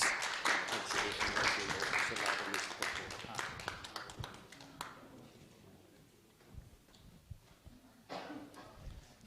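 Audience applause at a youth parliament event at Moirang College, a loud flurry of clapping that fades after about five seconds, followed by scattered taps and a short renewed burst.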